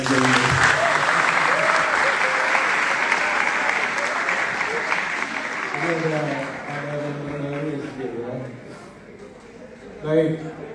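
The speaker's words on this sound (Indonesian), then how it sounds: "Tepuk tangan untuk anak-anak SD ini." Applause for elementary schoolchildren at an organisation's inauguration event in Bali, a full crowd round that gradually fades after several seconds as voices and talk rise through the thinning claps.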